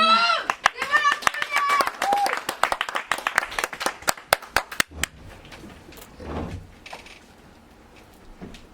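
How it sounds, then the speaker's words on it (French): A theatre audience claps for Queen Charlotte at a stage show, a burst of crisp individual claps with a few voices that thins to scattered sharp claps and stops, then quieter talking. "On applaudit très fort la reine Charlotte les amis."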